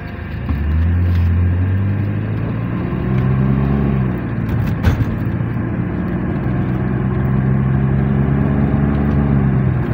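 BMW 320i six-cylinder car, fitted to run on compressed natural gas, accelerating on a straight road with a loud, continuous engine drone that rises in pitch, dips briefly and climbs again, with no talk.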